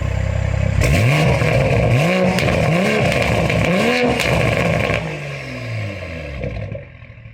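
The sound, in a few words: car engine revving with exhaust valves open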